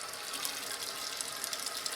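Toilet tank refilling after a repair, the supply tube aimed against the inside wall of the overflow tube to quiet it: a steady, continuous hiss of running water close by, with no voices.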